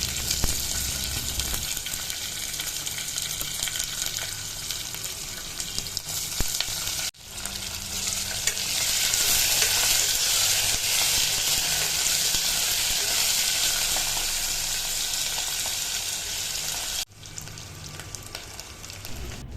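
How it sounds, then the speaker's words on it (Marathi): Crushed ginger, garlic, peanuts and spices sautéing in a pan for Khandeshi masala khichdi, a loud steady sizzle and frying hiss running throughout, broken by two brief cuts, with no voices. "सगळं काढलेलं साहित्य त्यात टाकून एकजीव करून घ्या, चांगलं परतवून घ्या।"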